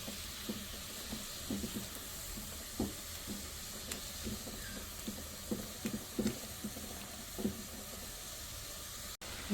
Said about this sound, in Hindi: ये सब डाल के अब इसको हमने बॉईल करना है, बहुत ज़्यादा नहीं पकाना है, बस इसमें बॉईल आ जाए अच्छा सा